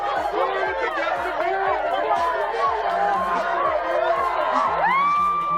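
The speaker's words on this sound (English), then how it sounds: "A parade in Omaha drew tens of thousands of fans, turning the streets into a sea of color and noise" Tens of thousands of fans crowd a championship parade through the streets of Omaha, a loud continuous roar of cheering and chatter with whoops and shouts, a steady rhythmic thumping beat beneath and voices rising over it.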